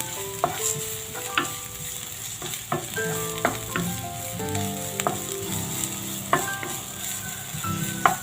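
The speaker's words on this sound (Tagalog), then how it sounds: "Gigisahin lang natin sa makaunting mantika." White onion sautéing in a little oil in a pan gives a steady sizzle, with sharp clinks of a spatula on the pan at irregular moments over a low background of harmonic tones.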